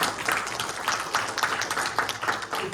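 A small group applauds, steady scattered clapping at moderate distance lasting a few seconds.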